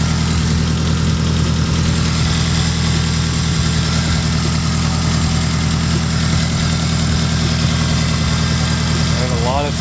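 A built 500 HP Hyundai Genesis engine runs after a turbo manifold repair, idling with a steady, loud, deep drone and constant vibration, with no break from start to finish.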